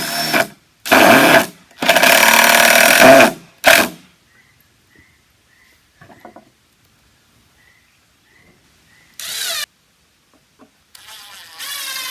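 A power drill drives drywall screws into boards to hold them down on a goat barn bunk deck, with several loud bursts of whirring, each a second or two long, then quieter scattered clicks and one more burst near the end.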